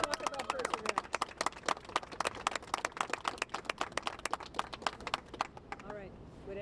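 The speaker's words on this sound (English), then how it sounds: "these folks need a round of applause" Applause for a busway project team at a briefing, a run of dense, sharp claps from a small group heard close, fading near the end.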